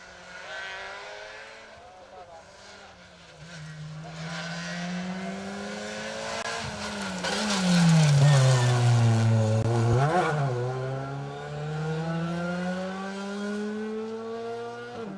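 A rally car on an asphalt stage of Rally Ceredigion approaches with a rising, revving engine, then passes close and loud around the middle with sharp gear changes and pitch swings before pulling away, while commentators talk faintly underneath.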